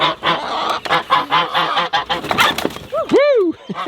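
Backyard chickens released from a humid front-yard coop, a dense overlapping flock of squawks and cackles close by, closing with a few loud rising honk-like calls.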